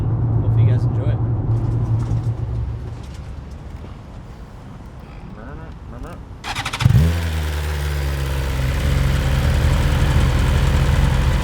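A 2020 BMW S1000RR superbike engine runs close by, a steady low idle that dips, then a sharp burst and the motor settles into a louder, rougher running drone, with a person talking over part of it.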